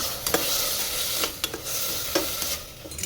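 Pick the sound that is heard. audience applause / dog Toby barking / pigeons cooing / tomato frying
tomato frying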